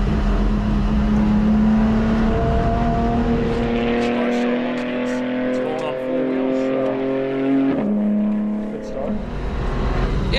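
A BMW M4 GT4 racecar on track, its engine droning at high revs with steady harmonic tones that shift as gears change, loud and close throughout, with talk over the engine noise.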